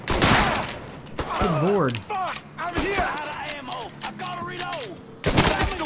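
Gunfire in Mafia 3: a rapid burst of shots at the start, then scattered sharp reports and a final volley, mixed with game dialogue and a person talking over the action.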